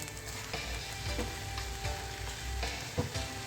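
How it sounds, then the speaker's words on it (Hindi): Tomatoes and whole garlic being mashed with a spatula in a hot pan while making keema karela, steady frying sizzle with repeated scraping and pressing strokes, close and fairly loud, with no talking. "मैं अच्छे से स्पैचुले से थोड़ा सा मैश करूँगी ताकि जो टमाटर और साबुत मैंने लहसुन की जड़ डाली थी तो वो अच्छे से मैश हो जाए।"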